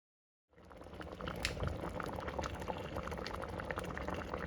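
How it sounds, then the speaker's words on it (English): Tomatoes simmer in a pot for tomato sauce, a steady close bubbling and popping boil that starts abruptly and keeps a dense, even roll throughout with no voices. "It's been simmering for quite a while"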